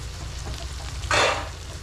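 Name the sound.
onions sautéing in a covered pan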